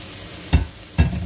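Beef balls fry in a pan under a soft, steady sizzle, with two gentle stirring scrapes about half a second apart, close and quiet, no voices.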